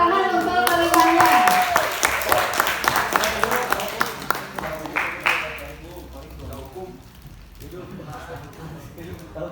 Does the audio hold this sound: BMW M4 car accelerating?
no